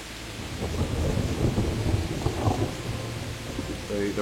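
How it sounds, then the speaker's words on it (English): Steady rain with rolling thunder rumbling through a stormy scene in a Souls-like video game, a continuous loud wash with low rumbles swelling throughout. "The rain has been putting out my torch."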